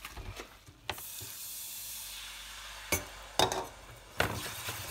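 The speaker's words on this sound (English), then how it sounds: "And start to whisk it very quickly." Milk being whisked quickly in a pan with salt gives a soft, continuous swishing hiss, broken by a few sharp clinks of the whisk against the metal.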